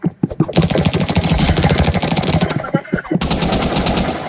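Rapid bursts of Uzi submachine gun fire in a video game, loud and close, with a continuous stream of shots broken by a brief pause before the firing resumes.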